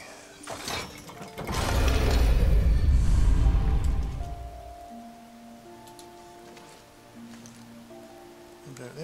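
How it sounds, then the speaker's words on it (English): Rain falling in a video game, a broad rushing downpour that swells loud for a few seconds then settles to a softer steady patter behind quiet musical tones. "Yes, it's still raining, so I'll put the hood on."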